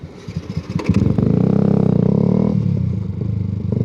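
A 125cc motorcycle pulls away close by: a few idle putters, then a loud, rough buzzing engine that rises as it accelerates, holds, and eases slightly at the end.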